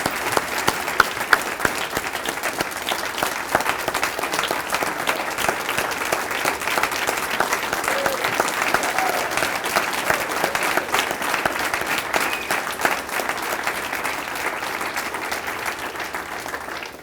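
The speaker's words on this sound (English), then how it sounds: "One more time, round of applause." Sustained applause from a banquet crowd honoring athletics hall of fame inductees, a long, even patter of many hands clapping, with a few sharper claps standing out near the start.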